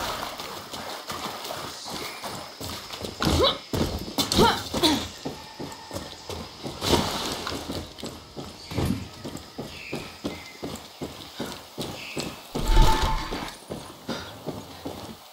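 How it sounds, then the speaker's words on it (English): Hooves of a horse painted with zebra stripes clip-clop steadily on hard ground in Far Cry 6, a close, rhythmic walking beat with a few louder strikes and faint voices underneath. "Look, it's Anton's fucking zebra. That's a horse and some paint."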